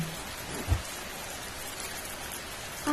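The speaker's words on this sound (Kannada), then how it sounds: "ಮಿಂಚು ಗುಡುಗು ಮಳೆ ಎಲ್ಲ ಶುರು ಆಯ್ತು" Heavy rain pours down in a constant wash of noise, with a brief low thump partway through.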